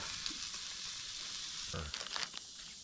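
Jalapeno popper pork burgers sizzling on a camp grill outdoors, a steady bright frying hiss with a few louder crackles and spatters near the end.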